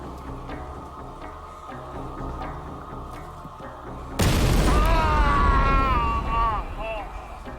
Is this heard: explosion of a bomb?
yes